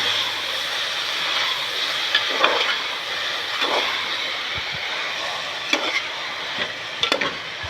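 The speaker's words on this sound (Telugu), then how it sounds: "ఇప్పుడు బాగా కలుపుకోవాలి రెండింటిని కూడా." Tomatoes and broad beans frying together in a pan, a continuous close sizzle with a few utensil scrapes and light knocks against the pan, no talk.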